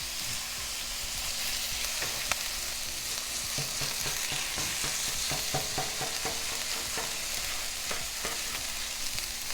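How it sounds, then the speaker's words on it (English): Virgin olive oil sizzles steadily on a hot Pit Boss griddle, a close, continuous frying hiss with scattered crackles and pops and no voices. "That's what we like to hear, the sizzle."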